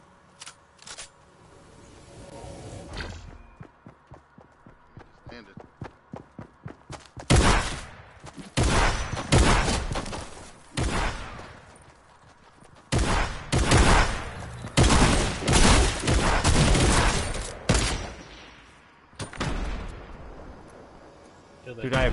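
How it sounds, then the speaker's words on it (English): Gunfire in Fortnite, starting as a quick run of rapid shots and building into heavy, booming bursts of shooting and blasts that come in loud clusters with short pauses between them, all without any talk over it. "They hear all the shooting."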